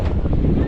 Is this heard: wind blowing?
yes